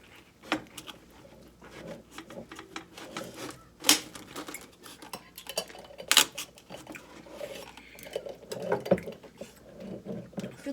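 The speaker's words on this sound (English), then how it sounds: "I like to take a knife and then I like to cut down" A knife saws down through the middle of a sub sandwich in irregular scraping and crunching strokes with sharp clicks of the blade hitting the board, close and fairly quiet.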